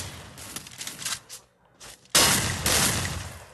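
Gunfire in a shooting video game: scattered quick shot bursts, a short lull, then a loud, dense burst of rapid fire that continues to the end.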